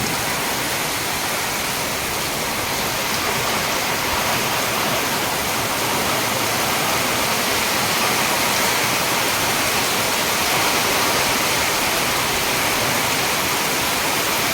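Rainwater pours and flows steadily into a farm field, a loud, continuous broadband rush like a stream or small waterfall that holds unbroken from start to finish, with no voices.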